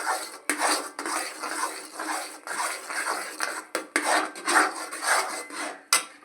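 Thick cooked semolina kesari, a sweet made with sugar, is stirred and scraped in a pan with a metal spoon, giving steady rasping and clinking scrapes in an irregular rhythm, close up with no talking.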